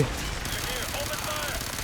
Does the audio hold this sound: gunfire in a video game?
yes